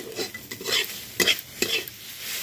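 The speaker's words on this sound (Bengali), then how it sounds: "এটা কিছুক্ষণ মিক্স করে নেব আর ভেজে নেব" Chowmein noodles are stir-fried in a pan with salt, giving a soft sizzle broken by a few sharp scrapes and clinks of the spatula against the metal.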